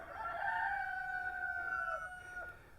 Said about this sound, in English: roosters say hi.